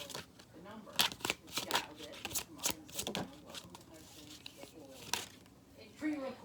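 Tarot cards laid out and shuffled on a table during a reading, a run of soft, crisp card snaps and slaps at an irregular rhythm, with a voice speaking quietly underneath.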